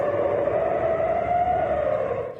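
A malfunctioning junior high school alarm siren near Tingzhou Road in Taipei sounds at about 3 a.m. as a loud, steady droning tone that holds level, then drops off slightly at the end.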